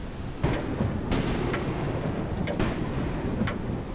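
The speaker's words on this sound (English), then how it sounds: "It would seem a storm is brewing." A thunderstorm with steady rain pouring down and several bursts of thunder, loud, close and continuous throughout, with no talking.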